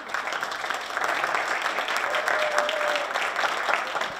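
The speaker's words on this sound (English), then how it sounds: "I want everybody to give him a round of applause" Steady applause from an audience at a campaign event for a 2024 Senate candidate, a dense continuous patter of clapping at moderate level lasting throughout with a few faint voices mixed in.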